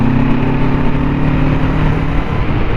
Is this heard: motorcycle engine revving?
yes